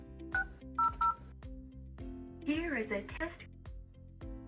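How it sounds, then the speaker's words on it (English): Keypad tones from a Yealink desk phone ring out as a series of short, distinct beeps while an extension number is dialed, followed by a burst of warbling tones and a voice over the line. "either lift the handset or just start dialing the extension number you're trying to call"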